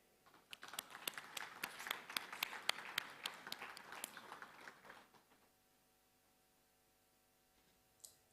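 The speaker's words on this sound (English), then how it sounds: "Please join me in a short round of applause as I welcome them to the stage" Small conference audience at a deep learning event giving a short round of applause, scattered distinct claps for about five seconds before fading to near silence, one faint clap near the end.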